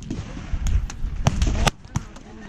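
Shotgun blasts at an outdoor shooting range, several sharp reports in irregular succession, fairly loud against low rumbling background noise.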